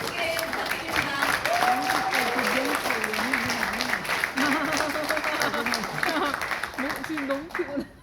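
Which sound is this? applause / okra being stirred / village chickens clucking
applause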